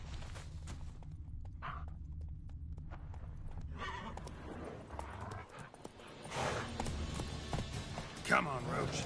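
The horse Roach in The Witcher 3 neighs and gallops, with rhythmic hoofbeats, whinnies and a snort over game ambience. Hooves thud under a soft background bed, with a sharp neigh near the end.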